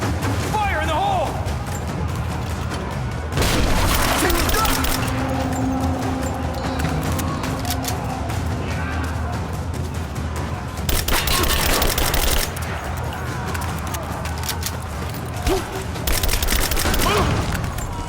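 Explosions and gunfire in Rise of the Tomb Raider, several loud booming blasts and crashing bursts separated by stretches of quieter rumble, with voices talking at times in between.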